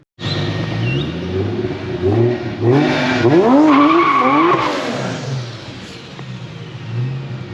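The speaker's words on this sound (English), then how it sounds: "But I did a skid." A rear-wheel-drive Honda Odyssey fitted with a 2JZ-GTE engine skids loudly, tires squealing in rising and falling sweeps over a rough engine roar for several seconds before easing off.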